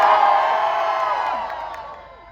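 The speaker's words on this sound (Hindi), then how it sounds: "तो एक बार जोरदार तालियां हो जाए आप सभी के लिए।" A crowd at a live outdoor show in Rohtak by Gurdas Maan cheers and whoops loudly, a dense roar of voices that swells at once and slowly fades over a couple of seconds.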